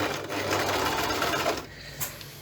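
Sewing machine stitching a seam in fabric, including a few reverse stitches, with a steady fast mechanical whir that stops abruptly and leaves a brief click.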